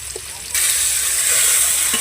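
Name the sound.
tomatoes and coriander frying in ginger garlic paste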